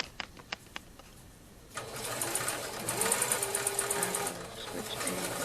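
A sewing machine stitches through a polka dot skirt during an alteration, starting after a few clicks and running steadily close by with a whirring motor hum, the pace varying slightly.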